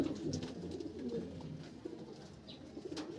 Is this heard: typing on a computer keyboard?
no